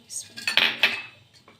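Chicken, cabbage and coconut shami kebab mixture being mixed in a bowl, with a handful of close, bright clinks and scrapes of a utensil against the bowl, no talking.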